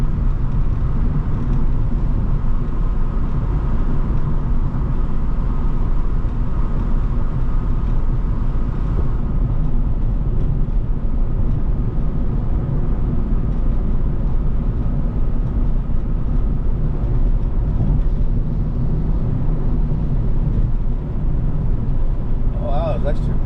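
A car cruising along a road at night, its engine and tyre rumble steady and continuous throughout, with a faint brief sound near the end.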